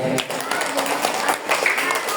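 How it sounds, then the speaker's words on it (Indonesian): Children clap at a school Isra Mi'raj celebration, a brief patter of scattered hand claps under lively chatter and voices in a busy room. "Tepuk tangan dong adik-adik."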